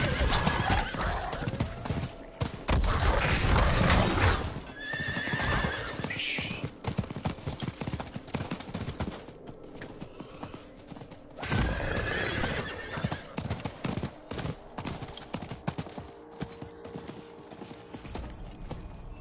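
A horse in the Diablo IV video game neighs and whinnies several times over steady clip-clopping hooves, loud and close, with game sounds and occasional voices mixed in.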